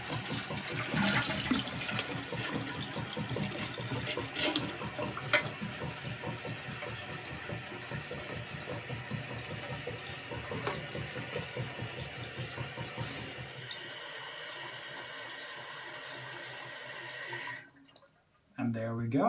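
Water runs steadily from the faucet of a sink-to-flush toilet tank sink, a constant close splash under occasional talk, easing off near the end before a brief silence.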